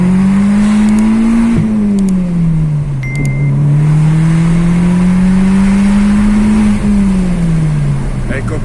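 A remapped 1.8T GTI pulls hard on a test drive, its engine droning loud and close as the pitch climbs, drops at a gear change, then climbs again. Brief high beeps sound near the start.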